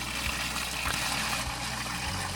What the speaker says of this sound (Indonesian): Ini mengalir terus dan jernih airnya.